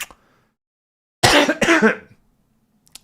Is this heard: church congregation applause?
no